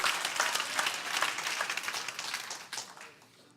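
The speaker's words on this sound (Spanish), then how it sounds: "Dale un aplauso fuerte" A church congregation claps together during a sermon, a moderately distant burst of applause that thins out and fades toward the end.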